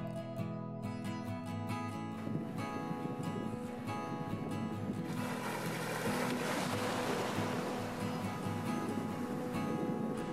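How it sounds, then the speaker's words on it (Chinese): Ocean waves on the long fine-sand beach at Changjiang'ao on Pingtan Island, Fujian, surging into a broad continuous wash after a couple of seconds, with tonal music running beneath. "这里有绵延几公里的细沙滩，海浪打过来是一条长长的线。"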